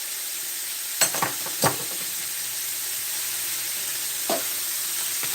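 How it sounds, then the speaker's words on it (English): Food simmering and sizzling in a pan gives a constant soft hiss with a few sharp utensil clicks and knocks against it. "Those are all going to simmer away."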